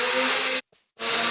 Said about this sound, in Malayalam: അത് മിക്സിയുടെ സൗണ്ടാണ്